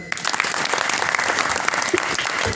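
A kirtan audience claps together in a dense, continuous burst of applause that carries on steadily from start to finish, loud and close, with no voices over it.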